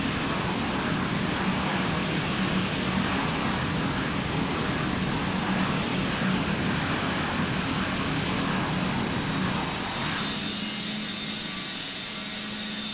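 McDonnell Douglas MD-83 airliner engines in a flight simulator: a loud, steady jet roar with a broad whine holding for about ten seconds, then easing slightly and thinning toward the end.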